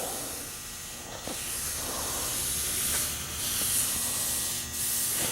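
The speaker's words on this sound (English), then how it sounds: "Then we can just wipe that down with MEK just like that." MEK solvent wiped over fabric covering on a Kolb Mark III Xtra light aircraft, giving a steady soft hissing rub that runs continuously at close range, with a few faint knocks and no talk.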